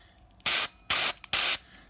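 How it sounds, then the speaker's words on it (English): Pressurized gas hisses through a FiZZ plug valve on a bottle cap in three loud, sharp bursts of about a quarter second each, evenly spaced, with near-silence between them. "you can hear the gas coming through it and out the inside."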